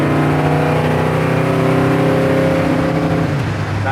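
A 1965 Ford Galaxie engine runs loud and close as the car pulls away, its steady rumbling tone rising slightly and turning uneven, with a rougher, sputtering stretch near the end.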